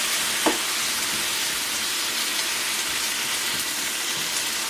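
Fire roasted diced tomatoes stirred into a hot pan for a chickpea coconut curry, giving a steady close sizzle with a brief clink of the spoon near the start and soft stirring throughout.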